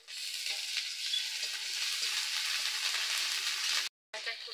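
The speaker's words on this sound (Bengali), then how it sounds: "এবার আমি আদা বাটাটা দিয়ে দিচ্ছি।" Ginger paste goes into a pan already frying garlic paste, green chillies and chopped onion, giving a steady hiss of sizzling oil with light stirring, cut by a short silent gap near the end.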